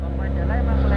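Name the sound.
Kawasaki ZX-25R motorcycle engine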